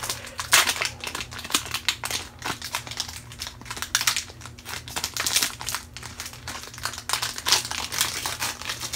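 A Pokemon card pack wrapper is opened with close, continuous crinkling and rustling in irregular bursts over a faint steady background hum.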